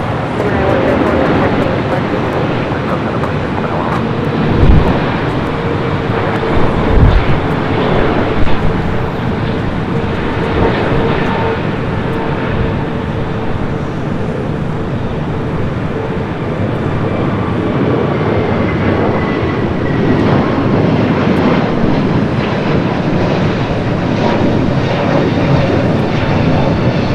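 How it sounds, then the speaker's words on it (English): A Oneworld-liveried Boeing 777-300ER jet airliner arriving from Hong Kong at Los Angeles International Airport, its engines a steady, loud broadband roar sustained throughout, with a few brief thumps and an occasional voice in the background. "Flight coming up from Hong Kong in the One World delivery 777 to 300 ER"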